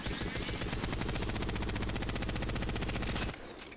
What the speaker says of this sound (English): I've only fired 10 bullets there and it's already recoiled well above those targets.